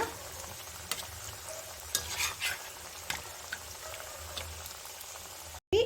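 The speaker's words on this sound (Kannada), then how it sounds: "ಸೆಕೆಂಡ್ ಬ್ಯಾಚನ್ನು ಹಾಕ್ಕೊಂಡಿದ್ದೀನಿ ಅದನ್ನು ಅದೇ ಥರ ಫ್ರೈ ಮಾಡಿ ತಗೊಳ್ಳೋಣ" Paneer veg rolls deep frying in hot oil, a steady close bubbling sizzle with occasional sharp crackles and pops throughout, and a brief dropout near the end.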